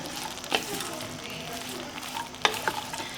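Toor dal and greens in a cooker are stirred together for a Karnataka-style greens sambar, with a soft continuous sizzle and a few distinct scraping clinks of the spoon against the pot, close by and without talking.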